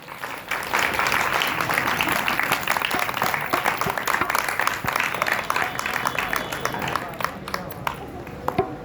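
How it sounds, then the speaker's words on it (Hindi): Audience applause at a Hindu temple religious discourse, a dense steady burst of clapping from a crowd lasting several seconds, fairly loud and continuous with some voices mixed in. "एक बार तालियां तो बजाओ जोर से"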